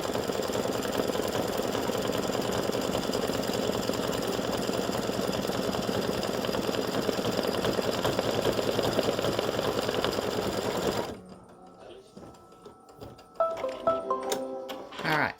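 Embroidery machine stitching red thread around a flip flop sole, a steady rapid mechanical chatter running continuously for about eleven seconds before stopping abruptly, followed by a few quieter clicks and rattles.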